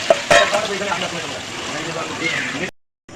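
Cumin, chillies and onions frying in hot oil, a dense close sizzle with a few sharp clatters early on, then cutting off abruptly near the end.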